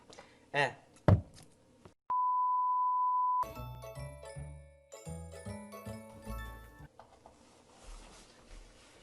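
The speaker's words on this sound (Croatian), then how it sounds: "Inače, alarm za novu godinu ovdje imamo." An alarm set for the New Year gives one steady, loud electronic beep lasting about a second, then a run of bright tonal chimes, with voices around it.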